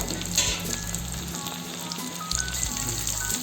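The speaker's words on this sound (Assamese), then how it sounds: "আপোনালোকে এনেদৰে 15 মিনিটমান ভাজি ল'ব" Local chicken and potato pieces fry in a pan on a gas stove, giving a continuous close, bright sizzle with crackling spits over a low, intermittent background hum.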